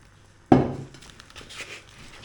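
Olive oil hits a hot frying pan with a sudden close hiss that fades into a quieter, uneven sizzle with light crackles.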